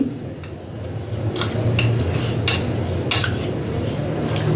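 A metal spoon stirs milk into a bael fruit drink in a vessel, giving a run of light, irregular clinks against the sides over a steady low background.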